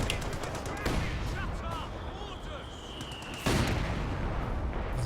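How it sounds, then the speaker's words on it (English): Anti-tank gun fire in a Company of Heroes 2 battle: two sharp, loud blasts about two and a half seconds apart over a rumbling combat din, with someone talking. "There's the anti-tank gun."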